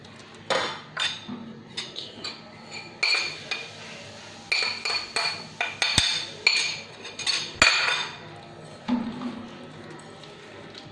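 Spoon clinking and scraping against a bowl while no-oil, no-sugar banana breakfast cookie batter is mixed, in irregular clattering strokes with pauses, close up and moderately loud, with no talking.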